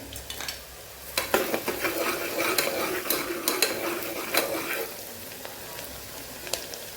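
Dried red chilies and a bay leaf broken in two crackle and sizzle in hot oil, with a spoon clinking and stirring through a close, continuous frying hiss.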